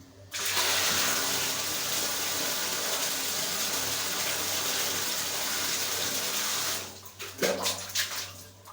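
Cool water runs from a tap in a strong, steady gush for several seconds, then cuts off into a few irregular splashes and drips near the sink.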